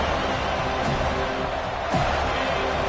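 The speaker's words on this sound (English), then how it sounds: "This crowd, full throat, splitting the eardrums" Football stadium crowd at a college game roaring full-throated in a steady, dense wall of noise, loud and continuous throughout with brief swells.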